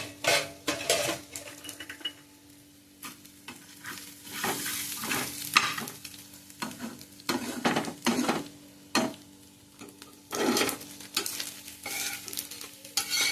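Garlic frying in a pan for a Udupi-style chicken dish, a steady sizzle broken by repeated scraping stirs and clinks of a metal spoon against the pan, close up with no talk.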